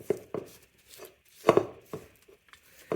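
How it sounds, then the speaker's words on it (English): A spatula scraping down the sides of a mixing bowl of creamed cookie dough, several short distinct scrapes and taps at irregular intervals, close and fairly quiet. "Every now and then it's a good idea just to scrape down the sides of your bowl"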